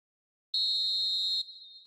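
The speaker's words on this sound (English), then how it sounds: "And there is the half-time whistle." A referee's whistle blows for half-time in an eFootball match: one sustained, clear, piercing blast of a bit under a second after silence, then a fainter tail that trails off.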